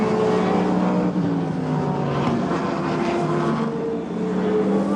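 GT race cars, including Mercedes-Benz and Porsche entries, roar together at Le Mans in 1998, a dense, continuous engine drone with shifting pitches from several cars, loud and steady throughout.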